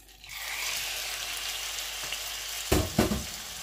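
Turkey breast pieces fry in hot oil for bread croquettes, a steady bright sizzle rising after a brief quiet start, with a few louder crackling bursts and stirring clatters near the end.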